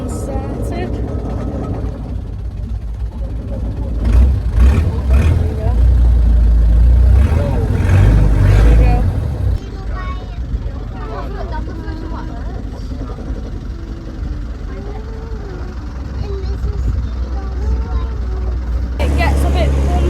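A tour boat's engine runs steadily as it pulls out of a bay near Monkey Island, Thailand, a loud low rumble and churning water throughout, with a person talking over it.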